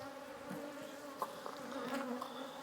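Honeybees buzz around an open hive at a beekeeping yard, a faint continuous drone with individual bees passing near the microphone in brief louder swells, no talking.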